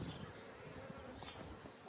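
Honeybees buzz during a beehive inspection, a dense, continuous swarm hum close to the microphone, quiet overall and steady without talking.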